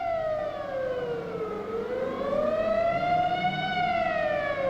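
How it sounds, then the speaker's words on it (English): Civil defense air raid siren sounding once more over Portland, a loud sustained wail that dips and then climbs back to a steady high pitch, carrying alone without voices. "as directed by the mayor, the siren sounds once more"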